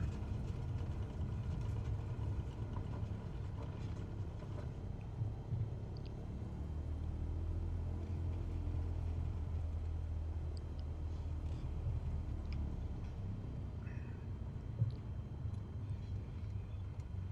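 Cessna light aircraft taxiing along the runway in Microsoft Flight Simulator 2020, a low, steady engine rumble at idle-like revs, fairly faint and continuous with no talk.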